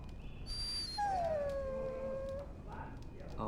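A dog whines in the video game Dragon Age Origins, one long falling whimper after a brief higher yelp, close and clear over a low game ambience.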